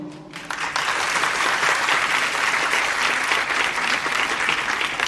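An audience claps in sustained applause at a talk, loud and dense, rising quickly after a brief quiet start and holding steady for several seconds.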